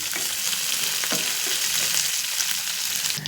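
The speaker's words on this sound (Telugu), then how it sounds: "వేరుశనగ గుళ్ళు జీడిపప్పులు వేసేద్దాం వాటితో పాటు అవి కూడా వేగుతాయి" Peanuts and cashews fry in hot tempering oil, giving a continuous close sizzle with light stirring scrapes and a brief clatter near the end, and no voices.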